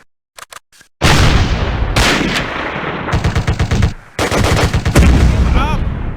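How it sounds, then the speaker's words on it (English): Gunfire in the World War II strategy game Close Combat: a few sharp early shots, then loud sustained bursts of automatic fire and rattling volleys, close and dense, with a brief pause near the middle before the firing resumes. "Take cover! Taking fire!"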